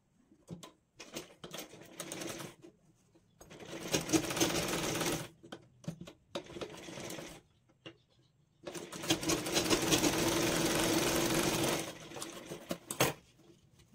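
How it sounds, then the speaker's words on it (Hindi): A sewing machine stitches down the centre of a blouse panel in several bursts, short at first and then one longer steady run, with brief quiet gaps of fabric handling. "तो मैं इसको सेंटर से स्टिच करूँगी।"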